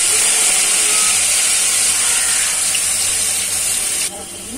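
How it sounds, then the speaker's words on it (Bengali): An onion and garlic spice paste fries in hot oil, a steady loud hiss and crackle of sizzling that continues evenly and drops slightly at the end. "একটু ভেজে নিলাম"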